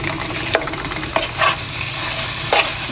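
Chopped onions with a little tomato paste frying in a pan, giving a steady broadband sizzle broken by several soft scraping stirs, close and fairly loud with no voices.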